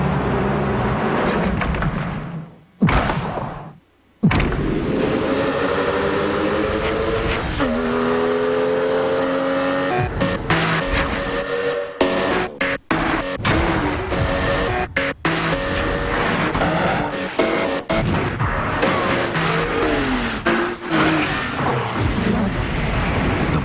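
A Porsche Boxster engine revs loud and close under a musical commercial bed, with a short drop near the start before the full, steady roar returns.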